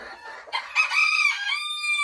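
A Belgian porcelain d'Uccle rooster crows loudly and close, one drawn-out cock-a-doodle-doo rising after a few short clucks, clear and alone.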